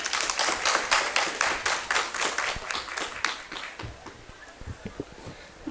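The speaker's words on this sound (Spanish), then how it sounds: "recibamos a la mesa con un fuerte aplauso" An audience at a book presentation of a Peruvian-Japanese publisher during the Lima book fair applauds a panel, a dense burst of close clapping that thins out to a few scattered claps.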